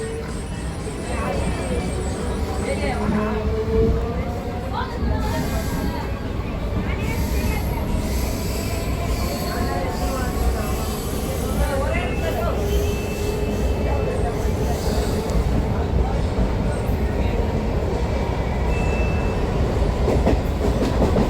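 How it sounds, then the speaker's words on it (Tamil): A local train pulls out of Ennore railway station, its wheels clattering in a loud, steady rhythm with squealing tones rising and falling over the din throughout. "இப்போ வண்டி எண்ணூர் ரயில்வே ஸ்டேஷன் வந்து டிபார்ட் ஆக போகுது"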